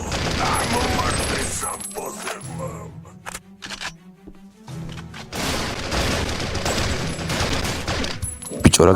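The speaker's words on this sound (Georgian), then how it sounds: "ბიჭო, რა გამწარებული ისვრის?" Gunfire in a police video game, with dense bursts of rapid shots and booms, a lull of scattered single shots midway, then heavy firing again, loud and close.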